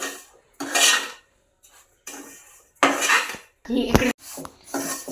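Wheat semolina being roasted in a pan for rava laddu, with bursts of scraping and stirring against the metal pan separated by short pauses, close and fairly loud, plus one sharp clink.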